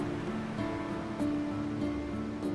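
Steady, dense roar of ocean surf against the sheer sea cliffs of the Big Sur coast, where mountains meet the sea, continuous and fairly loud with no voices.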